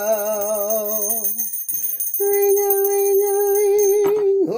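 A bell rings with bright, sustained metallic tones, first a wavering ring, then after a short gap a steadier held tone, close and loud.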